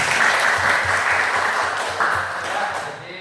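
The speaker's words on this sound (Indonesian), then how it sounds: "Tepuk tangan dulu." Students in a classroom clap their hands together, a dense, steady patter of many hands that fills the room and fades slightly toward the end, with no talking over it.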